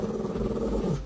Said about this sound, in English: Bandit keeps staring up and growling at something it perceives as a threat